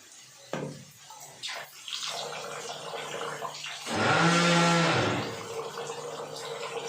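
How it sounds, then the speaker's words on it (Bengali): Rice is rinsed and swished by hand in water in a home kitchen while making khichuri, with sloshing and splashing, then a brief louder rush of running water from a tap. "চালটাকে খুব ভালো করে ধুয়ে নিচ্ছি।"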